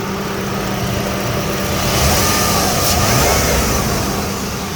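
A 2004 Jeep Liberty Renegade engine running after repair of a dropped rocker arm from a collapsed lifter, a loud, steady mid-pitched engine drone that swells slightly as it revs, heard close and alone.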